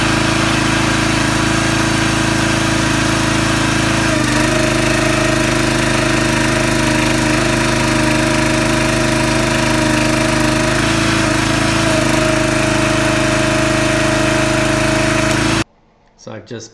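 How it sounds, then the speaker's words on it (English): A hydraulic press on a timber frame peg making machine runs loud and steady, its motor and pump droning continuously as a peg is pushed through a die plate, then cutting off abruptly near the end. "So here's what the press looks like running."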